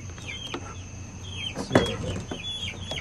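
Chickens cluck softly and repeatedly nearby in a farm setting, with a few sharper squawks mixed into a low steady background hum.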